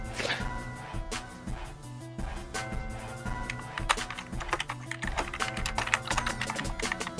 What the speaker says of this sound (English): Is the keyboard gonna be in the recording?